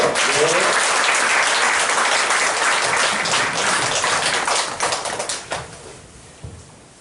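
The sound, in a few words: congregation applauding to welcome the pastor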